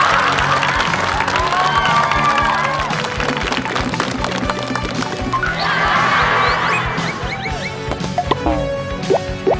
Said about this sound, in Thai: ปรบมือดังๆให้กับบัวหิมะครับ